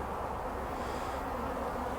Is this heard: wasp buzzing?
yes